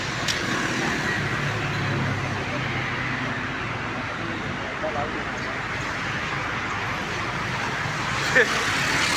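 Steady roadway traffic on Murree Road in Islamabad, a continuous broadband rumble of passing cars and heavier vehicles heard from the roadside, with someone talking over it throughout.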